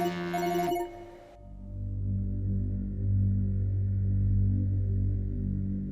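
A telephone rings indoors in a tense domestic drama scene, its brief electronic trill cutting off after about a second and giving way to a steady low hum and room tone.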